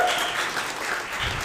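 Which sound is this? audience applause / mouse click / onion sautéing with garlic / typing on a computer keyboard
audience applause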